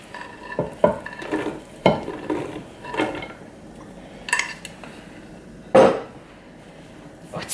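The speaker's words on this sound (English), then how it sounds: "So we're just going to give this a stir." Dried fruit stirred by hand into a thick Christmas cake mixture in a bowl, giving intermittent scraping and soft clinking strokes at an uneven rhythm, close and moderately quiet.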